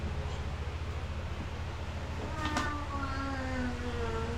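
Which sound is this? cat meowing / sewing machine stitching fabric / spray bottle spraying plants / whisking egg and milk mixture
cat meowing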